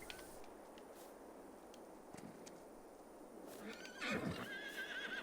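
A horse in the Farming Simulator 22 video game gives a whinny near the end, preceded by soft ambient game noise and a faint clip-clop of hooves.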